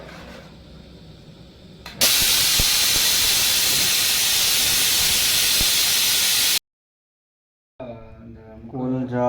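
A pressure cooker of veg pulao releases steam in a loud, continuous hiss lasting about four seconds, cut off abruptly. Quieter kitchen sounds come before it, and a voice follows a short silence.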